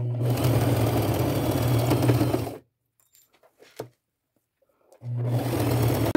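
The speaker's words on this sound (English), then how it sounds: "I'm just going to start sewing" A sewing machine stitches a drawstring purse in two loud, close, steady whirring runs, with a quiet pause of faint handling clicks between them.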